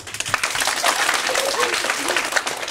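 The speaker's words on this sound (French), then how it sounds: "maintenez un applaudissement à mes camarades sur scène, Nicolas" A room full of people applauding performers on stage at a show in Epinay, steady dense clapping throughout, loud and close, with some crowd noise mixed in.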